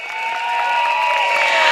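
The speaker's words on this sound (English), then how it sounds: "Let's give them all a round of applause" Rally crowd at North Vista Secondary School in Sengkang applauding and cheering, a steady swelling wash of clapping and shouts that grows slightly louder over a short burst, with no voices standing out.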